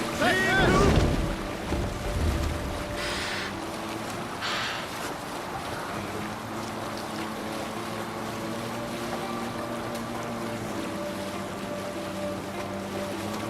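A longship sailing at sea in Assassin's Creed Valhalla, with a heavy wind gust and water rush at the start, then steady creaking hull and waves under a low drone, with a voice shouting briefly early on.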